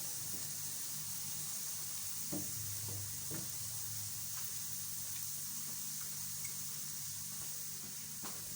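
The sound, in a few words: onions frying until golden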